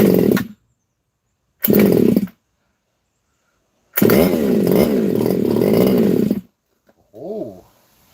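A freshly rebuilt engine fires in loud bursts: a short run, a second short burst, then a longer rough rumbling run of about two and a half seconds with wavering revs, and a brief quieter rev at the end, with silent gaps between.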